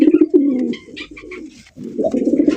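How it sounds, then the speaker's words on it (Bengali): Large Shiraji-type pigeon cooing loudly and close in repeated throaty phrases, with a short pause midway before the deep rolling coos resume. "ভাই রে ভাই, যে ডাকা ডাকে, এ মাশাআল্লাহ, এরকম বড় সাইজের সিলা কবুতর কই পাইলেন ভাই?"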